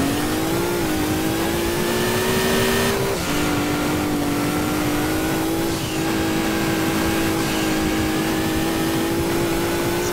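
Race car engine in the video game Gran Turismo 2 on the Green Forest Roadway track, droning loud and steady throughout with shifting pitch as the car revs and changes gear.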